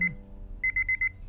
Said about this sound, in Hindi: ये अलार्म बंद करो यार